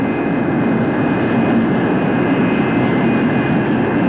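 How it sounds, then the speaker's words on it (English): A USAF F-102 jet racing down the runway, a loud, steady roar of jet engine noise held throughout at close range, with no talking. "the airplane was held on the ground until it reached 190 miles per hour"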